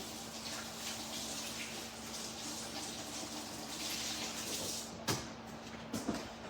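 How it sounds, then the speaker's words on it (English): Hands are washed under a running kitchen tap, a steady, close rush of water that continues throughout, broken near the end by a couple of brief knocks. "Once again, I'm gonna wash my hands."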